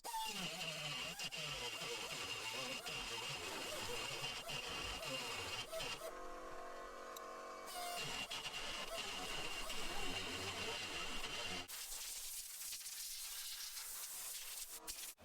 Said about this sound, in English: just notch it out with the grinder and then clean it up with this